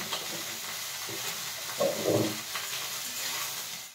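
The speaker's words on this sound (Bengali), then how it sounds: "হালকা করে ভেজে নেব।" Broccoli fries with a pinch of salt in a pan, giving a steady hiss and sizzle throughout, with a brief louder burst of crackling midway as it is stirred.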